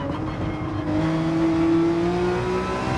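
Porsche 911 accelerating in Gran Turismo, engine note climbing steadily as it revs up through a gear, a continuous smooth whine building in pitch and loudness, with no voices.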